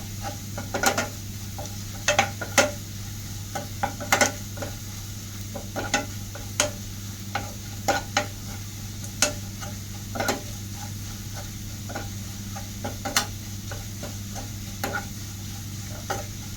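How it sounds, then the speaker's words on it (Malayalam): Chilli powder and garam masala are stirred and roasted in a pan, with a spoon scraping and clinking against the metal at irregular intervals over a steady low hum and faint sizzle. No voices are heard. "അത് നന്നായി നമ്മൾ മൊരിയണ വരെ ഇളക്കി കൊടുക്കണം കേട്ടോ"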